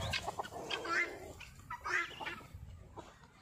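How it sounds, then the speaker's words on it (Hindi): Black chickens cluck on a farmhouse property near Bhopal in winter, several birds close by giving short, irregular clucks over a faint outdoor background. "ये काले मुर्गे मुर्गी हैं"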